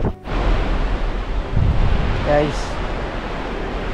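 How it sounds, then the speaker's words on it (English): Strong wind buffets the microphone and rough sea surf churns in a steady roar on the deck of the Sapphire Princess cruise ship in an Antarctic channel, with a brief spoken word near the start. "the wind is getting stronger and the water is not as calm as when we were in the bay."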